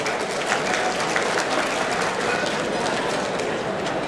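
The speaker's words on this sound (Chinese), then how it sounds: "我们再次以热烈掌声欢迎我们的日本舞表演" A hall audience at a Kaohsiung alumni association general meeting applauds a Japanese dance performance, with dense, steady, fairly loud clapping that carries on unbroken from start to end.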